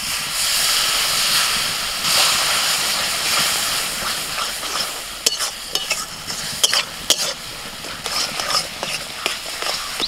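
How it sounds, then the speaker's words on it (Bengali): Spice paste of ground chili, Kashmiri chili, turmeric, cumin and coriander powder with a splash of water sizzles loudly in a pan, then sharp, irregular scraping stirs cut in during the second half, close up with no talking. "মশলাটা একটু কষিনি"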